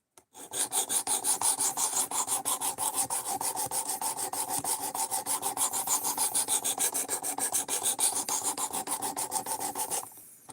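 A blade is sharpened on sharpening stones, rhythmic scraping strokes repeated quickly and evenly for about ten seconds, close and fairly loud, ending abruptly, with no talking.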